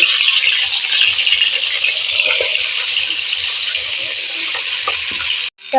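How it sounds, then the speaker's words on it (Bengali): Fish frying in hot oil in a wok, a steady close sizzling hiss that runs unbroken throughout and cuts out briefly just before the end. "তেলটা কড়াইয়ের হয়ে গেছে মাছটাকে আমি দিয়ে দেবো কড়ার মধ্যে"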